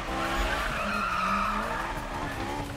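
Car drifting in Need for Speed 2015, a sustained loud tire skid and squeal rising and falling steadily over a constant engine drone, close and continuous throughout.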